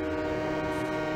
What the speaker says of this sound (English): That train whistle is pretty legit. Train horn on here.